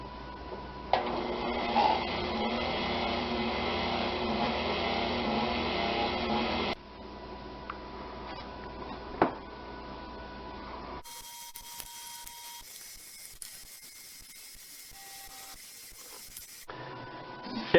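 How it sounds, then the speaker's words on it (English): A mixer whirs inside a flask, stirring separated Harvest Right freeze dryer vacuum pump oil: a steady, fairly loud motor hum for about seven seconds, then a quieter, thinner running tone with small ticks and no talking. "we have the mixer inside the flask"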